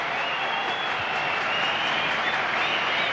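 Spectators at a cricket stadium in Colombo applaud as a batsman reaches a century in a 1996 one-day match, a dense, even wash of clapping from a large crowd heard at a distance.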